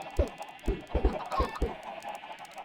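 Chickens clucking in Minecraft, a series of short, evenly spaced clucks sounding close and clear against a faint steady background.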